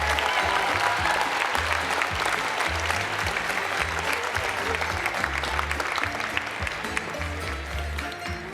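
Steady audience applause fills a fashion show runway finale, broad and sustained throughout, with a low rhythmic music bed thumping underneath.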